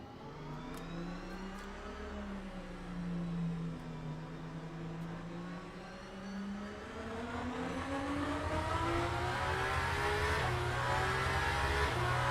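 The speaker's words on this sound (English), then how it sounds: "you'll hear the engine come on as I get out of the pit lane" Hybrid race car in a sim racing game pulling out of the pit lane, its engine note rising and falling in smooth sweeps before building to a louder, steadier drone, heard alone without talk.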